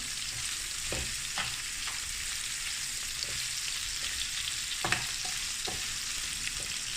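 Shrimp frying in a pan for Cameroonian ndolé, a steady close sizzle with occasional light scrapes and pops, no voices.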